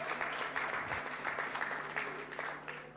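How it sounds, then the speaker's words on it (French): Audience applause in a hall for a guest named from the stage, a steady wash of many hands clapping for about three seconds at a moderate level. "je vous prie de l'applaudir."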